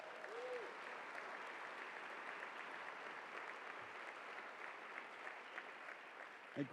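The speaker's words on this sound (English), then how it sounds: "who deserves a big round of applause" An audience at the Cal Poly Convocation applauds Dr. Rachel Fern Flores, sustained and even clapping that stays somewhat distant and soft throughout, with no voices standing out.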